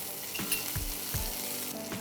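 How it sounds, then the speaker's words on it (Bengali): Ginger and green chili sauté lightly in a pan with a soft, steady sizzle, broken by a few low scraping thumps of stirring. No one speaks. "হালকা একটু সটেট করে নিলাম।"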